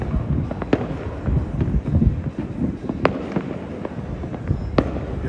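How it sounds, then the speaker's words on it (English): Personal fireworks set off on New Year's Eve in Trinidad, a dense run of sharp cracks and bangs near and far over a constant crackling rumble. "This is all personal fireworks."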